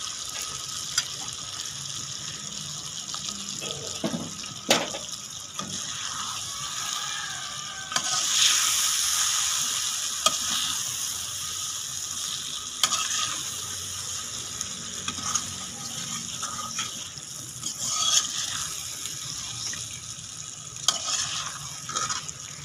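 Yogurt goes into a pan of sizzling chicken tikka masala, and a loud burst of hissing follows as it hits the hot pan, with continuous stirring scrapes and frying crackle close up and no voices.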